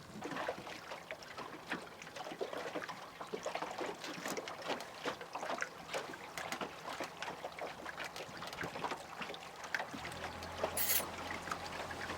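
A fishing boat moves along a course on the water, with continuous trickling and lapping water against the hull, soft gurgles and a low hum rising slightly near the end, fairly quiet throughout.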